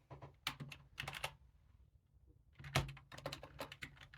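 Keys tapped on a computer keyboard while entering a GRUB install command on an Arch Linux system, coming in two quick bursts of close, crisp clicks separated by a short pause.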